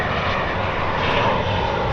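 A propeller airplane passes overhead, its steady engine drone loud and continuous, filling the air throughout.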